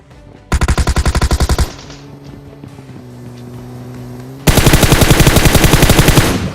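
Automatic gunfire in the mobile battle royale game PUBG: a long, loud rapid burst, a pause filled with a droning engine hum, then another sustained rattling burst close by.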